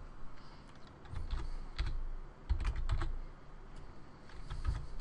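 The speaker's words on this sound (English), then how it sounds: "we're going to be typing in there" Keys on a computer keyboard clatter in quick, quiet bursts while a Windows drive cleanup command is typed, a few separated clusters of taps close by.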